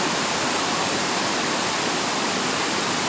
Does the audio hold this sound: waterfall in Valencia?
yes